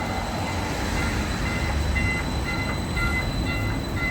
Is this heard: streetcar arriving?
yes